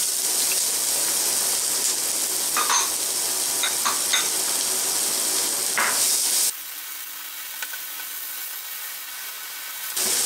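Onion frying with garlic in sesame oil in a pan, a steady close sizzle with occasional stirring scrapes, then the sizzle turns thinner and hissier partway through.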